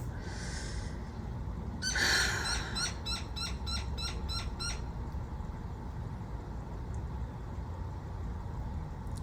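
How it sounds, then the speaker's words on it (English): A bird, apparently an owl, gives a short series of about eight quick hooting calls after a brief breathy burst, fairly faint over a low background hum; no talking. "Deep breath and enjoy that bird."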